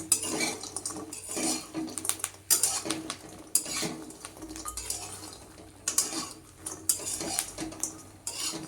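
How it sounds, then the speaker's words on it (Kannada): Soya chunks being stirred and mixed for Soya 65 with a utensil in a bowl, giving repeated scraping and clinking strokes in an irregular rhythm, close and moderately loud, with no talking. "ಹಾಕ್ಕೊಂಡು ಎಲ್ಲನೂ ಚೆನ್ನಾಗಿ ಕಲಿಸ್ಕೋಬೇಕು ಈ ರೀತಿ"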